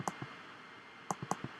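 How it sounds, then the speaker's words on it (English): Sharp mouse clicks land close and distinct: a pair at the start, then a quick cluster of three or four about a second later, over a faint hiss. "Click it once and it will go to the node you are on."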